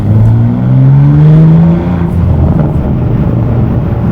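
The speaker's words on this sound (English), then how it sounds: "Let's go to Sport with M sound on. A little bit of throttle." A BMW G87 M2 fitted with an AWE SwitchPath exhaust revs in Sport mode with M sound on. The deep exhaust note climbs and falls through one long rev, loud and close, then holds at a steady idle rumble.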